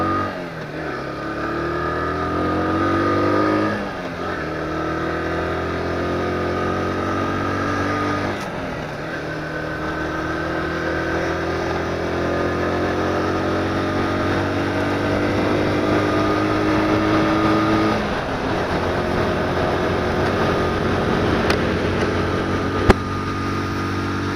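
A Junak RS 125 motorcycle cruising on the road, its engine holding a steady drone around mid revs with smooth pitch changes as the rider shifts and eases the throttle, loud and close throughout with wind rush.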